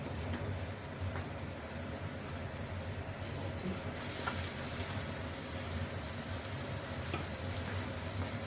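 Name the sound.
minced meat frying with onions in ghee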